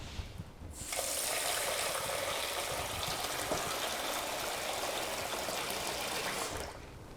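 A steady, fairly loud stream of water runs into a pot of medium grain rice for about six seconds, starting abruptly and then cutting off, with no talking.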